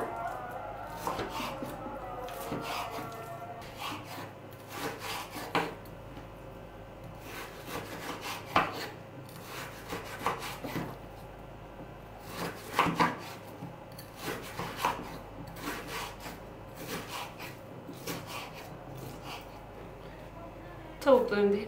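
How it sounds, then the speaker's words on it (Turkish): A knife taps and scrapes repeatedly against a cutting board in uneven bursts, with clusters of quick chops and pauses between them, while chicken and potatoes are cut for dinner. "Şu şekilde doğrayabilirsiniz."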